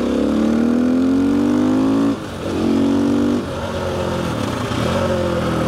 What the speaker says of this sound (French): c'est la première fois que je vais rouler avec un 450 en supermoto